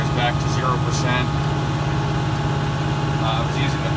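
A Kubota Grand L tractor idles out in the snow after an automatic regeneration, giving a steady low diesel hum with a few faint, brief sounds drifting over it.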